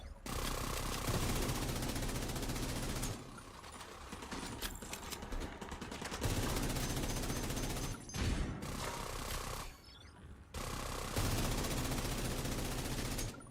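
Sustained automatic gunfire in The Division 2 runs in long continuous bursts, broken by brief pauses before resuming, loud and dense with steady rapid reports.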